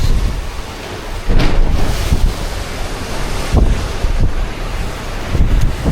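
Strong wind buffets the microphone while waves surge and crash at sea, with loud rushing gusts rising and falling throughout.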